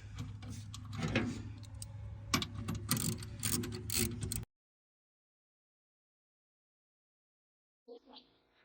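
A ratchet tightens a bolt on the driver's side of an underseat storage unit in a GMC or Chevy truck, giving dense rapid clicking for about four seconds before falling silent, with a faint brief clatter near the end.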